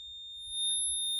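A buzzer in a DIY salt-water conductivity circuit, with two plates dipped into salty water, gives a steady faint high tone that swells slightly louder partway through and holds to the end.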